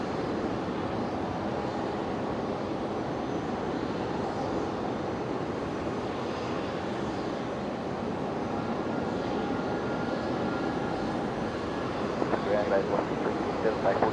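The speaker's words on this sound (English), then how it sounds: "the aircraft on screen here, will be departing Brisbane about the same time as the A330 that we just saw arrive" A Qatar Airways jet at Brisbane Airport gives a steady, broad engine roar that holds for the whole stretch with only slight swells near the end.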